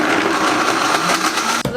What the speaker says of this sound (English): And then I just blend it for like about a minute on high